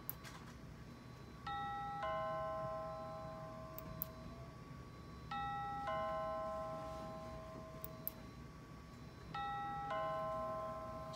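A doorbell driven by a button-triggered electronics project rings three times at even intervals, each a descending two-tone electronic chime, moderately loud over low background hum.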